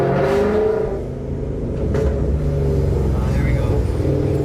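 A Ford Mustang engine with a modified exhaust rumbles and revs nearby, a deep throaty drone with brief swells, while people talk over it.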